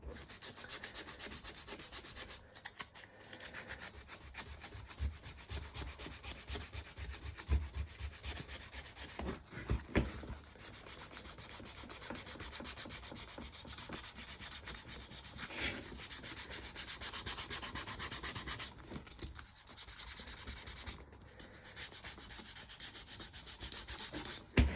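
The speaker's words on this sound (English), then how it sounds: "This is cheap sandpaper." Cheap sandpaper rubs steadily against a leather ammo boot toe being prepared for beeswax, a continuous close scratchy rasp with brief pauses, no talking.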